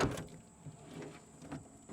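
Pull-out fridge drawer on the rear extended kitchen of a camper sliding open, a soft rolling rumble with a couple of brief knocks, close and moderately quiet.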